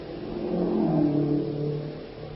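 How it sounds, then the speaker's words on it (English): Military staff cars speeding past as a radio drama sound effect, a mid-pitched engine hum that swells and then fades away over a couple of seconds, heard alone. "Wait. Let those cars pass."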